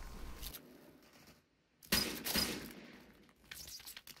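Rapid gunfire in Counter-Strike: Global Offensive, sharp loud cracks in two quick clusters separated by a near-silent gap, then fainter shots trailing off.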